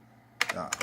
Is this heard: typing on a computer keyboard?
yes